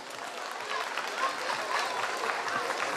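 Steady, dense applause from a crowd at a wrestling event in Erfelek, Sinop, sustained and even throughout with no breaks.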